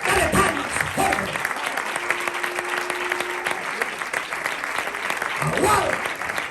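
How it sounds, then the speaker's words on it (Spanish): A church congregation claps loudly and steadily, a dense sustained applause with voices and shouts mixed in, and a held tone briefly sounding through the middle. "Dale palmas, fuerte."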